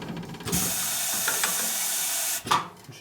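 A cutting tool grinds steadily for about two seconds while unshrouding a valve in the cylinder head of a 2001 Indian Scout 88ci S&S big-bore engine, then ends with a short mechanical clatter.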